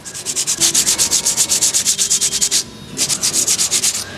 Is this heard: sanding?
yes